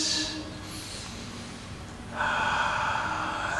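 Deep breathing during a yoga shoulder stretch, an audible inhale and a long exhale close to the microphone, with no talking.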